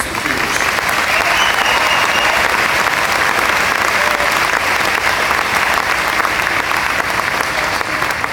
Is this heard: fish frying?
no